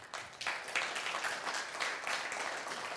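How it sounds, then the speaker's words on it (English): Audience applause after an introduction at a leadership training camp in Siófok, a steady broadband patter of many hands clapping for about three seconds at moderate level, with no speech over it. "a round of applause to Mr. Theo"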